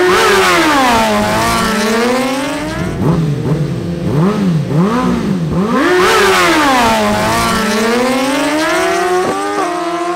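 Two Suzuki GSX-R1000 motorcycles scream through a drag race, their loud engines revving and shifting in rising, overlapping wails, one pitch falling and climbing again as they pass close, then fading toward the end.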